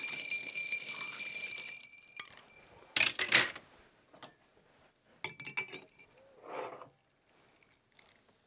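A bar spoon stirs ice in cocktail glasses for a Bunny's Hug of gin, whiskey and absinthe, producing bursts of bright clinking and rattling separated by pauses, with quieter stirring in between.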